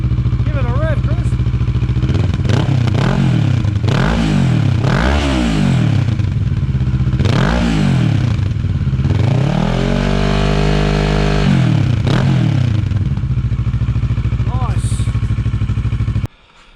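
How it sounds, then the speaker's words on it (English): A Kawasaki Versys 650 motorcycle fitted with a Delcevic exhaust idles loudly up close, then is revved repeatedly in sharp bursts, with one longer held rev before settling back to idle. "Test, it is a bit louder. Give it a rev, Chris."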